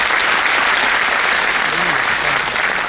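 A large theatre audience at a Purushottam Karandak college drama competition bursts into steady, loud applause for the backstage set-design team, dense clapping filling the hall throughout with crowd murmur beneath.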